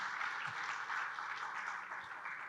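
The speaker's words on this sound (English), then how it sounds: "Guys, a round of applause for that." An audience applauds at a sales, marketing and tech conference in Bengaluru, steady dense clapping from many hands in a hall, continuous and even throughout.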